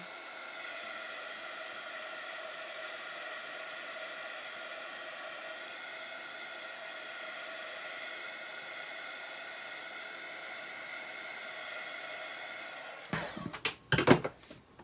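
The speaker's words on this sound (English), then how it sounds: "let me go over that with a heat gun a little bit" A heat gun blows hot air over wooden pumpkin fall decor in a steady, even whirring hiss that holds close and constant for most of the stretch, ending with a few brief bumps and clatters.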